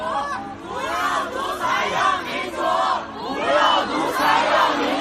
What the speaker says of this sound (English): The crowd also chanted